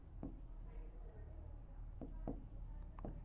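Pen writing a formula by hand on paper during a Maharashtra board 10th-grade maths lesson, a few scratchy strokes in short bursts, close and clear with no talk over them.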